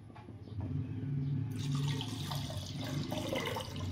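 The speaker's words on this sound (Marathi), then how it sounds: "मी घेतला आहे 1 पाव दही, याच्यामध्ये पाणी घालते" Water poured into a quarter kilo of curd for making kadhi in a home kitchen, a steady close gush that swells after the first half second and keeps running to the end.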